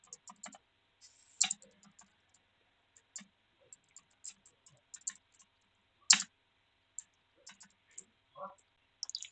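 Someone types on a computer keyboard nearby, with sparse, irregular key clicks and a few louder taps scattered across a quiet room.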